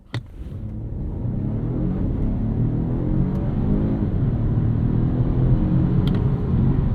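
A 2023 Volvo S60 Recharge launches hard from a standstill in B mode, its engine surging into a loud, sustained roar with a brief dip as it short-shifts into second gear.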